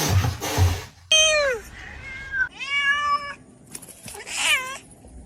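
A house cat meows several times in close succession, clear rising and falling cries with short pauses between, preceded by a brief rustling noise.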